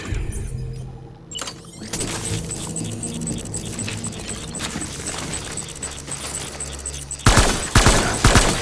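Rapid game gunfire bursts crackle through a battle scene, with sustained volleys and sharp repeated shots running throughout before a louder, denser burst of shooting near the end.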